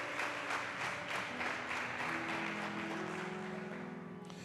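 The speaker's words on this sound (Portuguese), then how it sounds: "Dá um aplauso ao Senhor Jesus" A church congregation claps together in praise during an evening service, with steady rhythmic applause from many hands alongside a sustained musical tone that fades toward the end.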